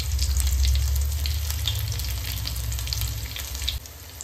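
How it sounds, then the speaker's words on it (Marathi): Cumin seeds, asafoetida and garlic cloves sizzle in hot oil for a sprouted moong dal amti tempering, a steady close crackling hiss with a low stove rumble that eases slightly near the end. "तर इथे जिरे सुद्धा चांगलं तडतडलं आहे, तर त्यामध्ये आपण आता हिंग टाकणार आहोत।"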